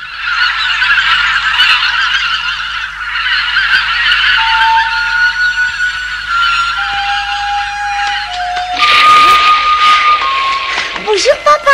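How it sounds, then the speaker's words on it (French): Wild ducks calling in a cartoon, a loud, continuous flock of honking, quacking cries near and busy, with a few whistling tones and a burst of louder calls toward the end. "ce sont les canards sauvages qui m'ont réveillé"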